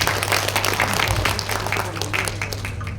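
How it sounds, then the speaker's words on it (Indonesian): Audience applause at a regional economic forum in Lumajang, honoring the East Java rural bank BPR Jatim; steady, dense clapping fills the hall from start to finish, with a low hum underneath. "Tepuk tangan untuk BPR Jatim."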